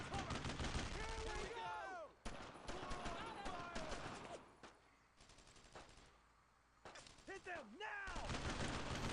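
Rapid bursts of video game gunfire crackle in dense volleys from several weapons, pausing briefly before more shots ring out, with someone talking over the shooting.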